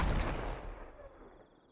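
Fireworks going off in the game Fireworks Mania, a loud broadband blast at the start that rumbles and decays into a fading tail over nearly two seconds, with no talk.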